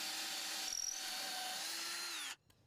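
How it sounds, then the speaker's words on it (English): A power drill bores pilot holes near the ends of PVC/WPC deck boards, a steady high whine for about two seconds that dips slightly before cutting off sharply. "Next, I bore pilot holes near the ends"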